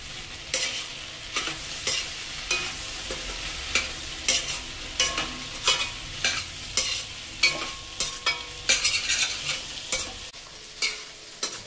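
Okra and onions stir-fried in a pan, a steady sizzle broken by repeated spatula scrapes and knocks at a brisk, even rhythm, close and without talk.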